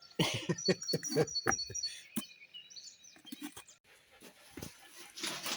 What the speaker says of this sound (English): It's very hard to get anything done when you've got a puppy in a box.